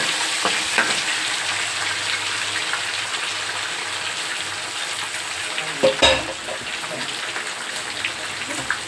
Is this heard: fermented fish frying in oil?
yes